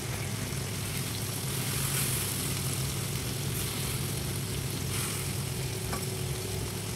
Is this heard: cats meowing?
no